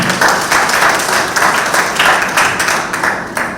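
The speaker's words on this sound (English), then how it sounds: "Give a round of applause to them." A pageant audience at a mature women's pageant celebrating International Women's Day bursts into loud, close, sustained applause, dense overlapping claps that swell and ease slightly in waves.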